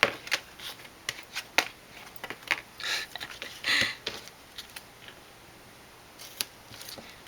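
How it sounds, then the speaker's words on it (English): Score tape being pulled and pressed along the edge of a paper coffee-sleeve mini album, a series of short, close crackles, peels and taps spaced irregularly, with a few quieter rubs between. "I'm just going to put some score tape here on this edge"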